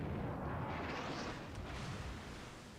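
A ship explodes in the Shipstream video game, a loud, close, rumbling blast that fills the low end and fades slowly over a few seconds.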